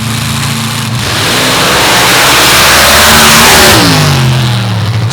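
Front-engine and rear-engine rail dragsters with 581 cubic inch Hemi engines accelerate at a drag strip, a loud, close, roaring engine blast swelling in the middle and then sweeping down in pitch as a car passes.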